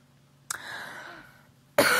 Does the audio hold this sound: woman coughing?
yes